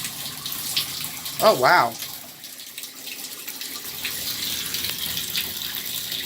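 Water gushes from more than two bathtub taps left open while a household water heater tank drains, a steady close hiss with a brief surprised exclamation from a person early on.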